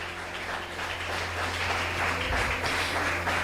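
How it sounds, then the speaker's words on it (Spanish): Church congregation applauding after a prayer, a dense steady wash of clapping from many people, filling the room at moderate loudness and swelling slightly toward the end. "Démosle un fuerte aplauso al Señor."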